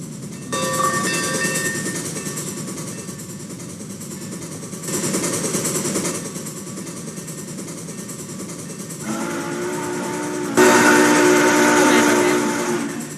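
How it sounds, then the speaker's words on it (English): A Big Boy steam locomotive rumbles and hisses in the Roblox game Rails Unlimited, loud and close, with steam whistle blasts sounding in separate bursts and a strong tonal whistle near the end. "I keep on going close to the locomotive, which is really, really loud."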